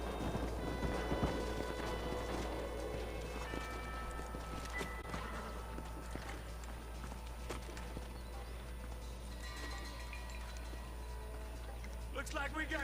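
In Red Dead Redemption 2, steady clip-clop of horse hooves trotting along, with a faint whinny and low ambient hum throughout, no talking.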